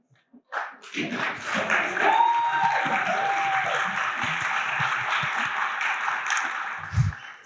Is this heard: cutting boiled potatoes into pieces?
no